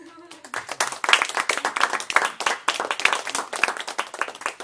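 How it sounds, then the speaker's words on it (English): Audience clapping for an English speaker at an evening talk, starting after a brief spoken phrase and continuing as a lively, uneven patter of many hands, fairly close. "let's give a round of applause to our English speaker tonight"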